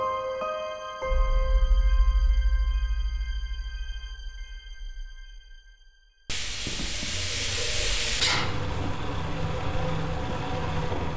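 A burst of broadband steam hiss in the game Lethal Company starts abruptly partway through and continues loud and steady to the end, preceded by a low droning rumble with tonal ringing.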